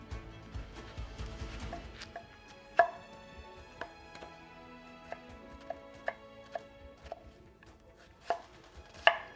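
A knife chops vegetables on a cutting board in a home kitchen, sharp separate knocks at an irregular pace with a few louder strikes standing out, close and clear with no talking.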